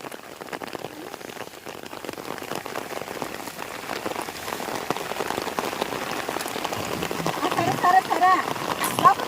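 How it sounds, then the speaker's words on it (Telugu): Steady heavy rain pours down on a surface, a dense continuous hiss that grows slightly louder toward the end. "మళ్ళీ ఫుల్ వర్షం పడుతుంది ఈరోజు"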